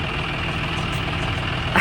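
A tractor engine idles loudly and steadily close by while manure is loaded, forming a constant rumbling drone with a brief clatter near the end.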